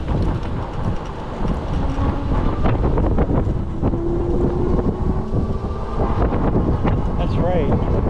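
Strong headwind buffets the microphone outdoors for the whole stretch, a loud, continuous rumbling roar with a faint tonal hum running through it.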